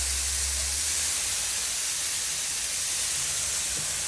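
Artichokes dropped into a hot pan with olive oil, where zucchini is already browning, give a steady, even sizzle and hiss that runs without a break from start to finish.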